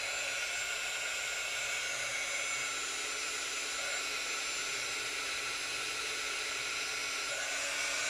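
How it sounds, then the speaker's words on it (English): A heat gun used for embossing blows a steady, loud, airy hiss like a hair dryer, continuous and close with no talking. "I'm just going to turn my heat gun on."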